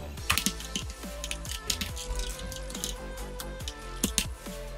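Light clicking of keys as text is typed on a computer keyboard, a quick irregular patter of soft taps, quiet beneath steady background music.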